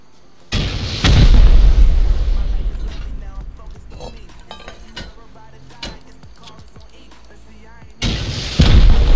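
Explosions during a base raid in the video game Rust: two loud, booming blasts, one near the start and one near the end, with crackling debris and clatter fading in between.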